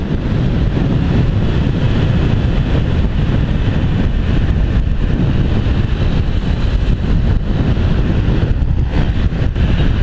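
A motorcycle with a loud aftermarket exhaust rides along, its engine roar dense and continuous under heavy wind buffeting on the microphone, with no voices.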